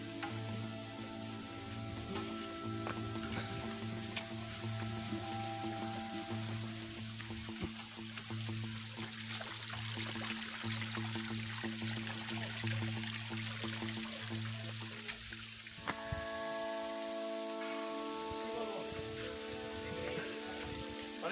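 A low-flowing Chingri waterfall in the hills near Boga Lake, thinned by dry weather, gives a soft, steady rush of trickling water under sustained musical tones that drop away near the end.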